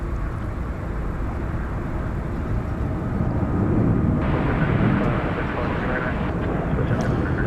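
Qantas Boeing 787-9 Dreamliner taking off at night from DFW for Sydney, a distant, steady engine rumble that grows somewhat louder midway, with voices talking over it.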